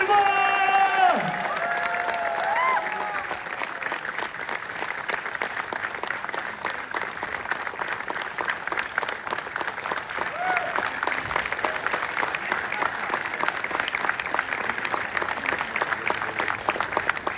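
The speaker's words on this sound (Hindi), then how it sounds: "जोरदार तालियों से स्वागत कर दीजिए" A live seminar audience in Dubai breaks into sustained, dense applause with some cheering, loud and steady for many seconds after an announcer's voice at the start.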